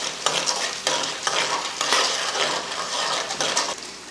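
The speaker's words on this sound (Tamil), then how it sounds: "எண்ணெய் காஞ்சதுமே கொஞ்சம் கடுகு உளுந்து, ஒரு 3 ஸ்பூன் அளவுக்கு கடலைப்பருப்பு" Mustard seeds, urad dal and chana dal fry in hot oil, a loud, close crackle with rapid popping and busy stirring scrapes throughout, without any talking.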